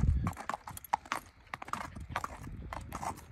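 Hooves of an 11-year-old Quarter Horse gelding clip-clop in a steady, close walking rhythm, with a few faint voices in the background.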